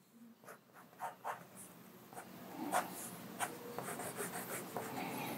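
A Derwent 05 waterproof ink pen scratches quick, scribbly tree shapes onto paper, giving a series of close, soft, rhythmic strokes with short pauses between them.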